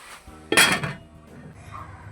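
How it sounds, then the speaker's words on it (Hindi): A metal lid is set onto a cooking pot simmering on low heat, giving one sharp clattering clink followed by a brief rattle as it settles, close and fairly loud against quiet kitchen background. "अब हम इसे लगा देते हैं ढकना।"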